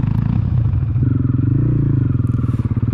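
An adventure-touring motorcycle stuck in a deep muddy rut revs hard and steadily. The engine is loud and close, with a throbbing, labouring note and clattering as the rider struggles to pull free.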